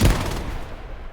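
Video game gunfire cracks out in a loud opening burst, followed by a brief tail of rattling shots that fade quickly.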